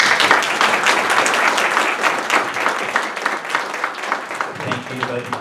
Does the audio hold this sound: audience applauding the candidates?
yes